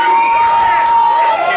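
A loud wrestling crowd at an All Star Wrestling match cheers for Evan Rivers against Sebastian Wolfe, a dense, sustained roar of voices with whoops and one shrill, steady whistle-like tone riding through it.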